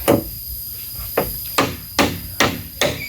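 Hammer blows drive into wood while a clothes drying rack is built: one sharp strike, a pause, then five steady, evenly spaced knocks, close and distinct.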